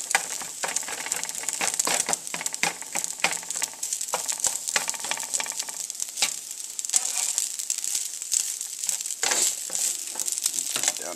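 Rice frying in a pan at turned-down heat while being stirred, a constant close sizzle broken by crackles and by scraping, clicking strokes of the spoon against the pan, with no talking.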